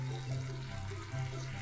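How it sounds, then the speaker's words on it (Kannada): Water pours into a cooking pan in a short, steady stream that stays faint and close, with a low hum in the background. "ಅದಕ್ಕೆ ಒಂದು ಅರ್ಧ ಲೋಟ ನೀರು ಹಾಕ್ಕೊಳ್ಳಿ"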